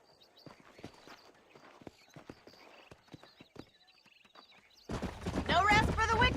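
Horse hooves clip-clop in Red Dead Redemption, a soft, steady trotting rhythm under quiet game sounds. At the end a loud burst of a horse whinnying or other noise breaks in.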